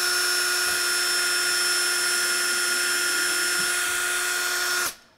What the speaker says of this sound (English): So we're just going to pre-drill these runners.